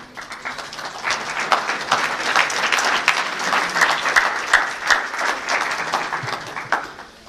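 Lively audience applause after a research talk on applying evolution, a dense crackle of many hands clapping at close range that holds for several seconds with small surges.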